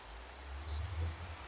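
Steady rain falls in the Minecraft video game, a soft even hiss of drops that holds at a constant low level throughout without pause.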